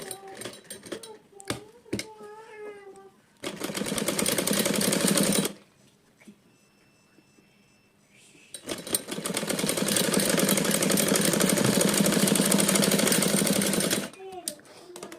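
An electric sewing machine stitches an umbrella frock in two long, loud, steady runs separated by a quiet pause, after a few seconds of brief voice and handling sounds.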